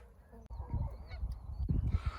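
A mother duck sitting on her eggs at a ranch gives a run of loud, close honking calls, a burst near the start and a stronger cluster toward the end, with no talk over them.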